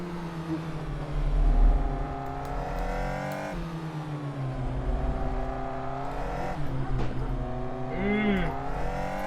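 Caterham Super7 1700 engine in a racing video game at Vallelunga, a steady droning engine note with shifting pitch as gears change, continuous throughout with a brief rising whine near the end.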